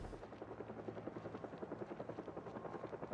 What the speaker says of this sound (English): I forgot the helicopter was coming.